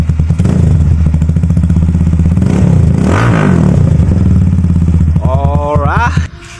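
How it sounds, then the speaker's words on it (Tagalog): Motorstar Explorer 250 motorcycle with a Yoshimura Alpha full carbon exhaust and no silencer, idling loud and close with a deep rumble, one rev rising and falling midway, then a sharp rev before the engine cuts out. "Ang kinabit natin ay Yoshimura Alpha Full Carbon. So syempre sound check tayo without silencer."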